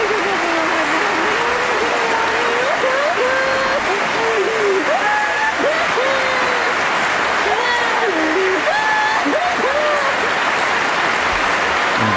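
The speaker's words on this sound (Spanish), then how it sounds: "Aplaudiendo, pero aplaudiendo casi con pocas fuerzas" Arena crowd at an Olympic badminton semifinal applauding injured player Carolina Marín, a steady dense wash of clapping and cheering throughout, with a commentator talking over it.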